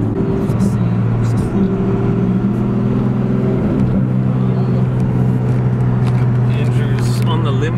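A single-turbo Nissan R32 GTR engine holds steady against the rev limiter, a loud sustained droning roar with slight wavering, while people talk excitedly nearby.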